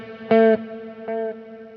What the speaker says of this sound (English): I'm using a quarter note delay